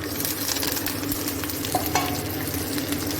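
Onion, dried chillies and curry leaves fry in a pan for a chutney, giving a loud, steady sizzle with occasional soft stirring scrapes, close up and continuous.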